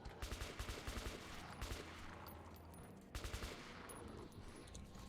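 Automatic weapon fire in the video game Metro 2033, with rapid bursts of gunshots repeating in short volleys and a steady background of in-game noise.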